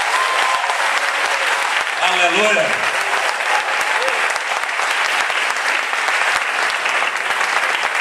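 A congregation at a church leadership congress applauds in a loud, dense, sustained wash of clapping, with a voice calling out briefly over it partway through.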